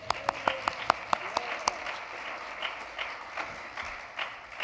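A church congregation applauding visitors, beginning with a few distinct, spaced claps that fade into soft, scattered clapping across the room.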